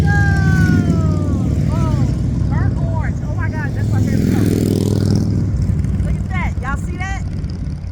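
A burnt orange motorcycle passing by with a steady engine drone that swells and fades, heard under a nearby voice talking excitedly.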